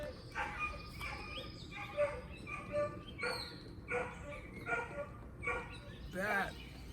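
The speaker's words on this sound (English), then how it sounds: "That was Chance in distress. We could not locate the dog." Dog named Chance whimpering and yelping in distress in a small garden, a series of faint, distant high-pitched cries repeating about every second, ending in a wavering howl-like whine.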